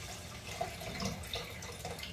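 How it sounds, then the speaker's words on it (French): Water poured into a pot of rice, a soft, steady splash and gurgle heard close but fairly quiet, lasting about two seconds with no voices. "Je vais rajouter de l'eau."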